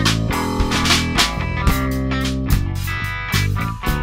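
A driving drum groove with punchy kicks and snares mixed into music, heard with a slightly hollowed, filtered tone from the Airwindows XNotch notch EQ plugin.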